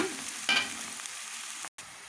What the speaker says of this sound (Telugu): చూసారు కదా ఉల్లిపాయలు మనకి బాగా ఫ్రై అవుతున్నాయి అన్నమాట